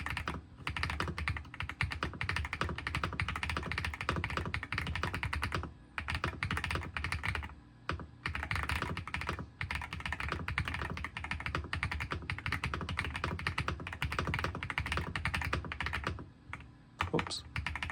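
Rapid clicky typing on an AULA S75 Pro mechanical keyboard, close up, in continuous bursts with brief pauses between runs of keystrokes.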